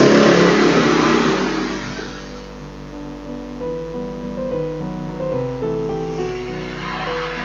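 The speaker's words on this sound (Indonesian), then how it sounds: "maaf ada suara motor lewat" A motorcycle passes along a village or town street, its engine loud and near at first, then fading and easing to a lower, steadier drone with no talking.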